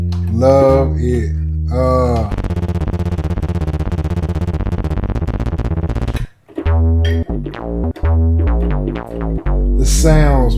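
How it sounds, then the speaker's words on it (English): Moog synthesizer playing loud, layered tones: sustained bass notes, a fast rippling arpeggiated passage, then stabbing chords and sweeping textures, continuous and close. "that is the sound of the Moog"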